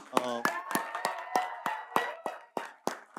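A small press meet audience claps in a sparse, uneven rhythm, about a dozen sharp, close hand claps over a few seconds with a faint voice behind them.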